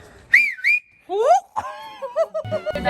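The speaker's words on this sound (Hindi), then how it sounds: "सीटी बजाती हुई कैसी लगती?" A girl whistles in short bright rising and falling phrases, with a gap between bursts, close to the listener, ending among background noise in a home during New Year preparations.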